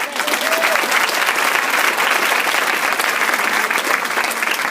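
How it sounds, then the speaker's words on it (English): Sustained audience applause fills a company recognition meeting in Indianapolis, a dense, steady wash of many hands clapping at full volume for the whole stretch, with no break. "Give yourself a hand of applause."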